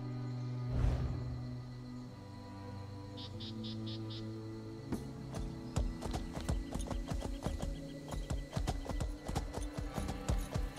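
A horse mount in The Elder Scrolls Online clip-clops along, first with a whinny and slow steps, then rapid galloping hoofbeats in a steady rhythm over game music.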